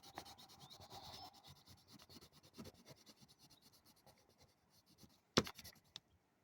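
A yellow pencil crayon rubbed back and forth on paper, a soft, close, continuous scratchy scribbling that tapers off, ending with a sharp tap and a brief clatter.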